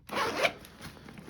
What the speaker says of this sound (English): We'll open that up and you can see just insanely smooth zipper pull.